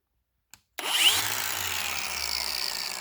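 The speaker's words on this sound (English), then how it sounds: "So this is going to be my custom lathe." A sharp click, then a power drill clamped as a makeshift lathe spins up to turn down a steel engine bolt, its whining motor running loud, close and steady to the end.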